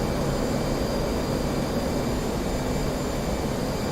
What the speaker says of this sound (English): And F-18 takes a short turn off the takeoff.